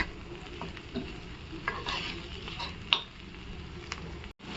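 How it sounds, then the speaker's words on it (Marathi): Parboiled cluster beans are sautéed with spices in a pan, a soft sizzle under repeated scraping stirs with a few sharper utensil clicks, fairly quiet and close. "छान असं ना सगळे मसाले टाकून आपण आहे ना परतून घेऊया"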